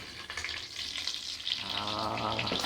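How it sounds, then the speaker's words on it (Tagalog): Galunggong fish fries in hot oil with a steady, dense sizzle and crackle, close and fairly loud, running unbroken for a few seconds. "nagluluto po tayo ng galunggong"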